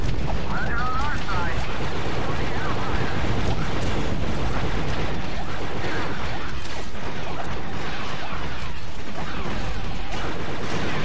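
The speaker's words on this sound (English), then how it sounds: "we'll just throw a grenade over there" A grenade blast and rattling gunfire in Star Wars Battlefront 2, Imperials fighting Wookiees, a dense continuous din of shots and explosions with a voice talking over the battle.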